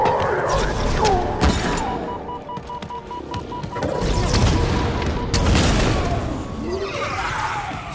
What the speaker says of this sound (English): We rocket him right away.